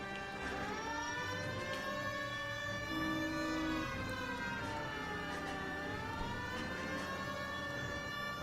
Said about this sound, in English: The siren usually makes people actually get out of your way a little faster.